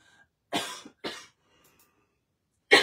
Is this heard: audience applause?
no